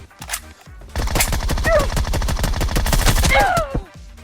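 Rapid automatic gunfire in PUBG Mobile hits a player sheltering behind a wall, a dense rattling burst of shots lasting about three seconds, loud and close, with brief whistling ricochet-like tones.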